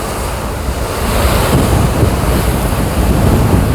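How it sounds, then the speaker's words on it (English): Strong wind buffets loudly and steadily against the microphone, a roaring rush that swells slightly partway through, with surf-like noise underneath. "The wind is strong."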